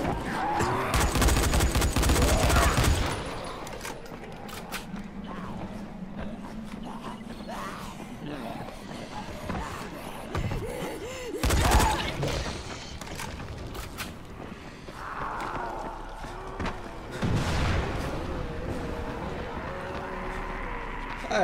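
Gunfire in the zombie game Dying Light, a loud burst of rapid shots at the start followed by scattered sharper cracks and clatter amid game noise, with people talking over parts of it.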